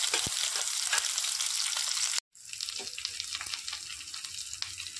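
Chopped onion and green chili fry in hot oil in a pan, a steady bright sizzle with scattered crackles, broken by a brief near-silent gap midway before the frying resumes, close and fairly loud with no talk.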